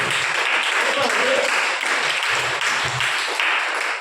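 A church congregation claps together in a burst of applause, loud and close, with a voice talking over part of it.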